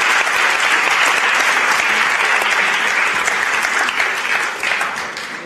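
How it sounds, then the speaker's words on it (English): An audience at a Holland Festival commemoration event applauds with sustained, dense clapping that fills the room and tapers off slightly toward the end. "So give them a big round of applause."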